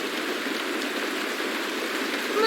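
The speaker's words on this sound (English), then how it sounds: "It's raining." Steady rain pours down in a constant hiss, dense and close, with no breaks, in the video game Honkai: Star Rail.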